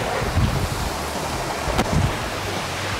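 A steady, dense rush of falling water from the Murusobe waterfall in Sikka fills the scene, loud and constant, with occasional low thumps of wind.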